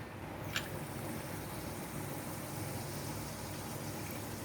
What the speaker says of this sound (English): the appetizing fizz has appeared here from mango mojito